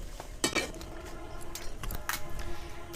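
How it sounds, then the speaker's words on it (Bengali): Fuchka frying without oil in a pan of hot salt, with scraping, stirring clinks of a utensil against the pan and a few sharper knocks, close and moderately loud with steady background noise. "এইভাবে লবণ দিয়ে দিয়ে ভেজে নেবেন, দেখবেন খুব সুন্দরভাবে ফুচকাগুলো ফুলবে"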